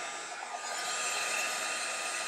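Hair dryer blowing steadily on a crayon to melt it, a continuous airy whir at close range with no talking.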